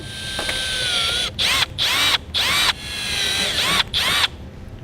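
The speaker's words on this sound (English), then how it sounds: "we'll take our drill bit and drill those out." A power drill whines at high speed in several short bursts with brief pauses, as the bit drills holes into a metal bracket up close.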